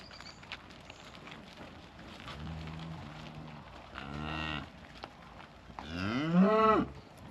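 Cattle being herded low out in the open with a few drawn-out moos, the last one louder and rising, over faint rustling and movement.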